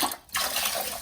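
Hot water pours steadily into a toilet bowl, a close, continuous splashing rush with a brief dip before the flow resumes, with no voices.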